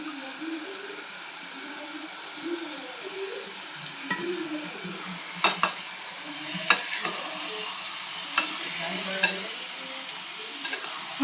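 Rice and masoor lentils for pulao being sautéed and stirred in a pan, a steady soft sizzle with occasional scraping knocks of the spoon, close and moderately quiet.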